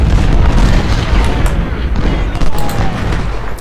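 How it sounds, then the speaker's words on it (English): Civil War artillery in Ultimate General: Civil War at Gettysburg booms loudly amid crackling musketry, with deep cannon blasts and scattered gunshots layered into a dense, continuous battle din. "So artillery is messing up there."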